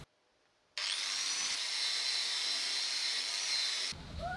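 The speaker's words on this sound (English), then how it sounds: "I used an angle grinder with a wire brush attached." Angle grinder fitted with a wire brush cleaning rusty hand tools, starting abruptly with a loud, steady high whine and harsh scrubbing that runs for about three seconds before cutting off.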